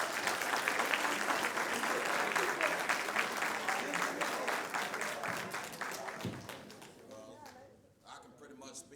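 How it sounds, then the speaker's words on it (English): Audience applause at an awards ceremony, a dense, steady round of clapping from a crowd that fills most of the clip before thinning and fading out near the end. "Give him a round of applause."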